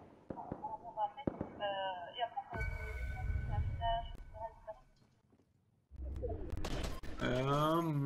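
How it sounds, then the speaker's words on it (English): Gunfire in the Fortnite video game, a burst of rapid popping shots with crackling bursts layered over game sounds and music, followed by further loud bursts near the end. "Somebody's shooting me!"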